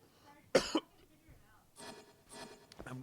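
One sharp, close cough bursts out during a gaming session, followed by quieter throat sounds and brief muffled talk.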